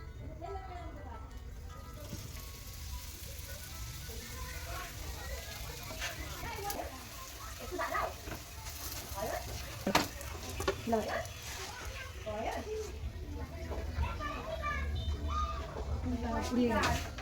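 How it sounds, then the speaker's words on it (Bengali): Aloo paratha frying in oil in a pan, a steady low crackling sizzle under intermittent clinks and scraping, with a voice speaking over it throughout. "আর একটা এভাবে ভেজে নেব আবার তেল দিয়ে দেবো"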